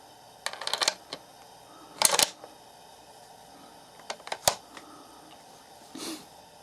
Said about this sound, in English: Now let's see how this bolt fits in.